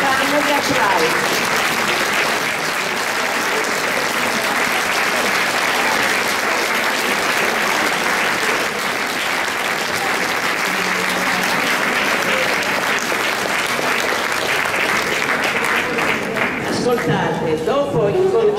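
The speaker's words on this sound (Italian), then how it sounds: "un applauso in piedi, così si fanno gli applausi" Sustained standing ovation from a concert audience at a New Year ensemble orchestra performance, dense continuous clapping filling the hall for the whole stretch, loud and even with crowd murmur underneath.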